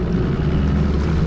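A fishing boat's outboard engine drones loudly and steadily at close range while tuna fishing offshore in NSW, a dense low rumble with wind and water wash, no clear change in pitch.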